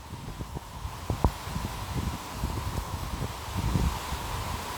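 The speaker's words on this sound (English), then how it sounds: "Another gust coming through." Strong wind gusts during an intense summer storm in DC roar through rustling trees, with irregular buffeting bursts that swell toward the end, loud and close with no talk.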